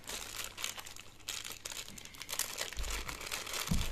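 Plastic packaging of a kit being unwrapped, a continuous close crinkling and rustling with irregular crackles and soft bumps, no voices.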